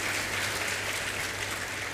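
An audience clapping steadily in a hall, a dense continuous round of applause at moderate level with no voices over it.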